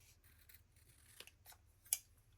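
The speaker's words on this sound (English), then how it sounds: "let's go ahead and cut these out." Scissors cut out simple paper shapes for a journaling project, making quiet, close snips and soft paper rustles with one sharper clip near the end, no voices.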